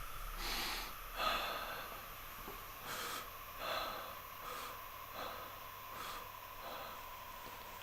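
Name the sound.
forceful breathing in a qi breathing exercise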